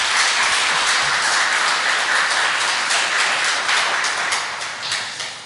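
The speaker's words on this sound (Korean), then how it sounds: "우리에게 은혜로운 연주를 들려준 우리 앙상블에게 더 큰 박수 한번 부탁드립니다." A church congregation at an Easter Sunday worship service applauds the ensemble after its performance, a loud, dense, continuous roar of clapping that fades slightly toward the end.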